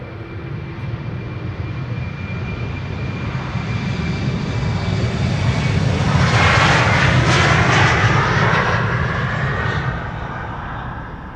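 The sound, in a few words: KLM airliner taking off at Amsterdam Schiphol Airport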